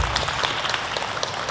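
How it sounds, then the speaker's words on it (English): Audience at a foundation event clapping in another round of applause, a soft, fairly distant patter of many hands that runs evenly through the short stretch. "can we just give her another massive round of applause?"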